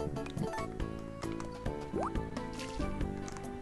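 Crops are watered in the farming game Harvest Moon DS: Sunshine Islands, with a splashy watering effect and a quick rising swoop over steady, bouncy in-game background music.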